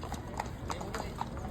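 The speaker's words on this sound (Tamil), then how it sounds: "உள்ளே இருக்க குதிரை வெளியில் வருது, வெளியில் இருக்க குதிரை உள்ளே போகுது" Horses walk during a changing of the guard ceremony in Malaysia, their hooves clip-clopping in a steady, evenly spaced rhythm on a hard surface, with voices talking in the background.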